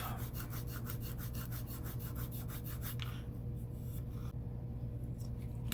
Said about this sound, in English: This has been sitting around for 12 hours probably, so I should be able to sand this off now.